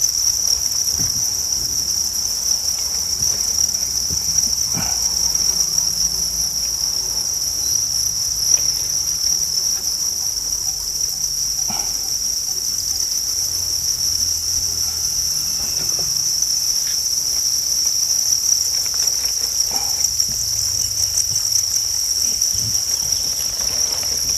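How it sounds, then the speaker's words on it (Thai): Crickets in a breeding box chirp steadily throughout, a dense continuous high trill with no voices over it. "เดี๋ยวจิ้งหรีดเขามาไข่ของเขาเองนะครับธรรมชาติของเขานะครับ"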